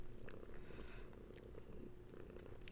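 A cat purrs softly and steadily, a low continuous rumble close by with faint higher rustles above it, quiet throughout and with no talking.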